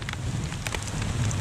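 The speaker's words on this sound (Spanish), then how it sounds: "Mira cómo esta águila protege a sus huevos de un intenso granizo." Intense hail pelting an eagle's nest, a dense steady patter of icy impacts with scattered sharper hits over a low continuous rumble, close and fairly loud throughout.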